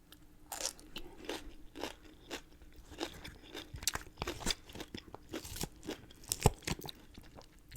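Close, crisp crunching bites of a spicy pepper being eaten at an Olive Garden meal, a run of irregular crunches and chewing spread over several seconds with no talk.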